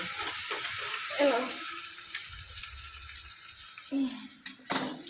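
A potato mixture for aloo chop is stirred in a pan: a soft sizzle under a few scraping, knocking strokes of the spoon, fairly quiet and close, with faint voice-like sounds in the background.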